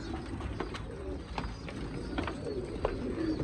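Pigeons cooing inside a loft, with soft, repeated throaty coos and brief calls over a steady low rumble of background noise, fairly close and continuous.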